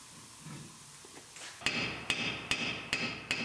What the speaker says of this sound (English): tap the drum off of there